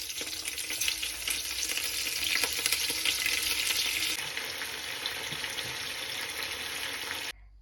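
Fish roe dropped into hot oil with curry leaves and green chilies, a dense close sizzle with stirring that settles into a softer steady frying hiss before stopping abruptly.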